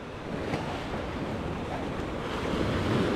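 Ocean surf rolls and breaks on the beach at Playa del Carmen on the Caribbean coast, a loud, steady wash of churning water mixed with wind rumble against the microphone, continuous and close.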